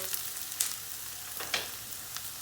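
Onions sautéing in a pan for a spinach dish, a soft steady sizzle with a few brief louder crackles and stirring scrapes, close and alone.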